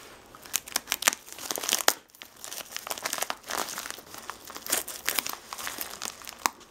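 Crinkling and tearing of a taped plastic parcel from AliExpress as it is opened by hand, close and fairly loud, with bursts of rustling and ripping that rise and fall with short pauses.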